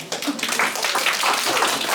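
Audience clapping for craftswomen at the opening of a Ukrainian art exhibition in Schwerin, Germany: a moderate, uneven patter of hands that starts abruptly and stays fairly close, without speech.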